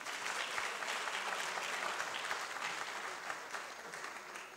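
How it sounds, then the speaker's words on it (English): Applause from an audience, a broad, fairly quiet patter of many hands heard from a distance, steady throughout and tapering slightly toward the end. "So, please clap for him."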